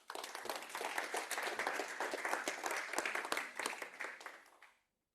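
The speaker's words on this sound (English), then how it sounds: "A big round of applause for Hans." A conference audience at an international education and health gathering gives a speaker a round of applause: steady, dense clapping from many hands that holds for a few seconds and then quickly dies away to silence.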